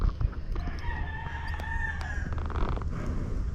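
A rooster crows with a long drawn-out call that stands clearly over a steady low outdoor rumble, set on a farm near where a young Missouri Fox Trotter horse is being ridden.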